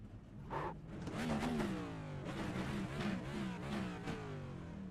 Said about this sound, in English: rev my engine to him, because that was good racing.